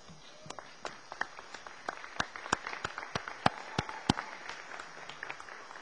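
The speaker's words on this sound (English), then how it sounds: "I think that you all owe all these fine folks a round of applause" A commencement and graduate hooding ceremony crowd at Southwestern College in Winfield, Kansas, offers sparse, scattered claps in a large hall, individual sharp hand claps standing out against a quiet, reverberant background.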